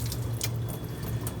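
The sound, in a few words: rinsing a lobster under running water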